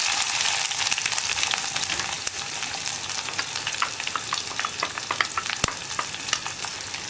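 Sliced onion, green chillies, cardamom, fennel seed and bay leaf fry in oil in a pan, hissing and sizzling steadily with repeated light scrapes and taps of stirring throughout.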